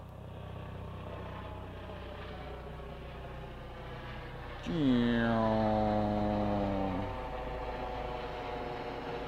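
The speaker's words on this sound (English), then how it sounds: "Got a helicopter." A droning helicopter engine rises suddenly into a close, loud overhead pass with a falling pitch, then fades back to a steady background rumble, on Florida's Space Coast.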